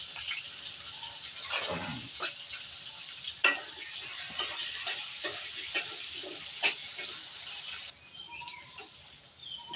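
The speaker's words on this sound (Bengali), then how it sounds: "কিছুটা সময় ধরে ভাজবো এবার" Potatoes fry in a pan with a little turmeric and salt, giving a steady close hiss of sizzling oil broken by several sharp clicks and scrapes of stirring, then a quieter sizzle near the end.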